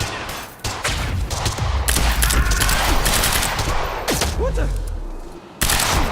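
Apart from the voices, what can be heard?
gunfire in the video game Quantum Break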